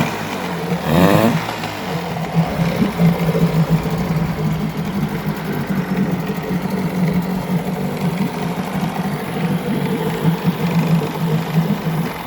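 A 1975 Mercury 7.5hp long-shaft outboard boat motor idles steadily and smoothly up close, a constant low mechanical drone with even pulsing throughout, heard alone with no voices.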